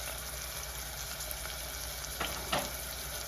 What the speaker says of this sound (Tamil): இதெல்லாம் நல்லா தாளித்து விடட்டும்.